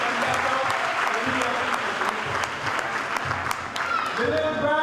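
Audience applause fills a Jamaican stage play, a sustained dense clapping crowd heard throughout, with a voice talking over it near the end.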